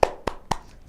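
Three sharp hand claps in a quick, slightly uneven rhythm, close and distinct, during a spirited group clapping cheer at a children's storytelling session.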